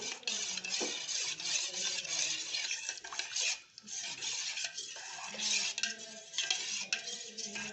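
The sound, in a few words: stirring powdered milk into water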